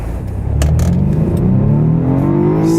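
A 2014 BMW 428i xDrive coupe accelerates hard on a cold, flat road, its engine note climbing steadily through the revs, loud and close.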